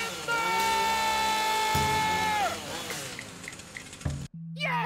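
A chainsaw cutting a tree, its engine droning steadily with a strong tone before winding down in pitch, followed by scattered knocks and a brief drop. Voices talk over parts of it.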